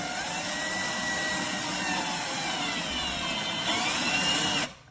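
A cordless 20V combi drill drives a screw: a steady high-pitched motor whine runs continuously for several seconds, rising slightly near the end before cutting off abruptly. No voices.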